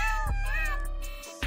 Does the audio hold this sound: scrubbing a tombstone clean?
no